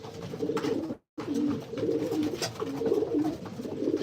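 Racing pigeons cooing in a loft, several birds producing overlapping low throaty coos nearby, with one brief dropout in the sound early on.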